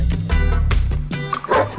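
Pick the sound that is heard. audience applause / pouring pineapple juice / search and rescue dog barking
search and rescue dog barking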